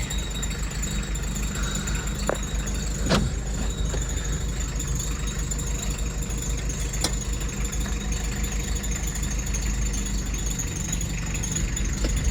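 A car engine idles steadily and close as the car is taken out, with a continuous low rumble, faint rattles and a couple of sharp clicks over twelve seconds.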